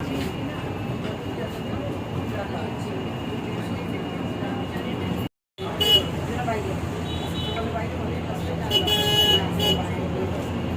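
Slow, congested road traffic heard from inside a local electric bus in Port Blair, a steady broadband rumble of vehicles with brief horn toots near the end and a short dropout midway, voices faintly mixed in.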